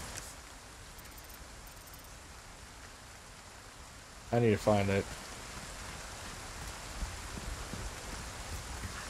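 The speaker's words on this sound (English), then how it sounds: "The rain is horrible." Rain in the video game Resident Evil 4 Remake, a steady hiss of falling rain across the whole stretch, with someone briefly speaking over it partway through.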